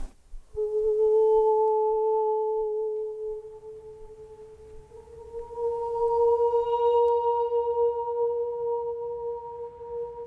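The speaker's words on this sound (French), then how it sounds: "Je chante déjà juste une note." A guide sings a single sustained note inside the Thoronet abbey, the pure tone holding steady for many seconds and blooming into a long, lingering stone-church reverberation, solo and clear.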